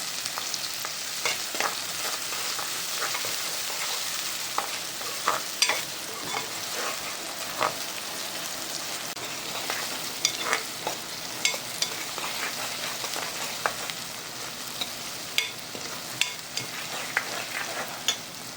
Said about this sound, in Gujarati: ડુંગળીને પાકવા દેવાની પહેલાં તમે ડુંગળીને પાકવા દેવાની